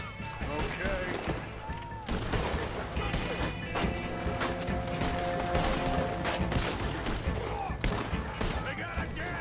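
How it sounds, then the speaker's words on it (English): Dense, continuous gunfire from a Gatling gun in a PS4 video game, crackling bursts mixed with crashes and impacts, loud and unbroken throughout, with a voice speaking now and then underneath. "They got a Gatling gun!"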